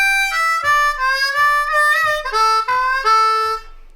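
A D diatonic harmonica plays a blues lick with a slide, a sequence of bright sustained reedy notes that glide upward, five or six phrases over about four seconds, close and solo.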